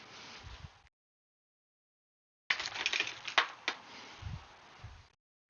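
Pliers snipping 3D printer filament beside a Prusa MK4 printer, a few sharp, close clicks and snaps in a brief burst after a pause.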